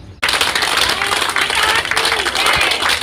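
A crowd claps continuously, dense and loud, with voices mixed into the applause, at a local event in support of Indian soldiers in Bhusawal.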